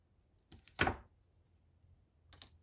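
Crochet yarn snipped flush on a crochet square, a single close crisp scissor cut with a faint click just before and another soft snip a moment later, otherwise quiet.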